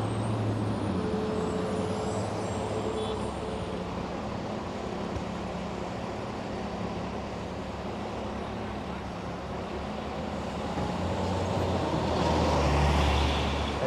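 Continuous traffic rumble on Fifth Avenue in New York City with buses lined along the street, idling and moving engines forming a dense, steady roar, swelling slightly near the end.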